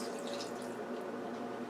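Water pouring out of a 6-ounce glass in a home kitchen, a steady soft trickling and splashing stream running for under two seconds, close and moderately quiet with no talking.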